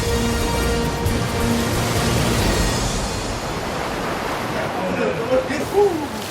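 Sea surf surges into a cave entrance at a bird's-nest collecting site in Indonesia as the tide rises, a loud, continuous roar of churning water with rushing wash, close and steady throughout.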